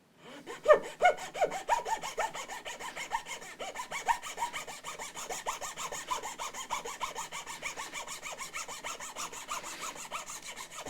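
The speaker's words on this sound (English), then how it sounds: "it's always fun cutting a nut out" A fine saw cuts out the nut on a Stratocaster-style partscaster guitar, a quiet, close, steady rasping back-and-forth with rapid even strokes that continue throughout, no voices.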